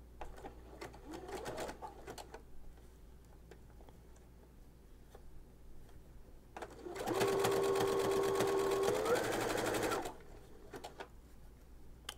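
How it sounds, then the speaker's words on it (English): A sewing machine fitted with a tape stitching foot runs in one steady three-second burst of fast, even stitching, rising slightly in pitch near the end, after quiet handling sounds. "you are ready to start sewing again"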